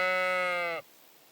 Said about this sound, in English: Like, seriously, I'm talking to a sheep.